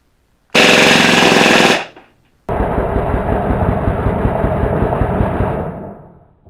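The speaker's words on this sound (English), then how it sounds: "Now I'm going to do some full auto with this so you can see what kind of feedback I'm getting from" MP9 gas blowback airsoft gun firing full auto, two loud close bursts of rapid clattering shots, a short one then a longer sustained rattle that tapers off at the end.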